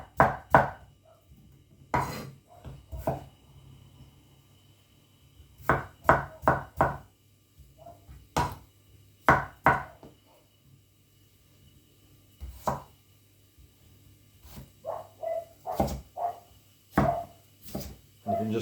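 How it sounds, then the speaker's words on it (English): Knife chopping vegetables into small pieces on a board, heard as sharp, close, irregular knocks in clusters with quiet pauses between runs of cuts. "you cut them small. They cook quicker."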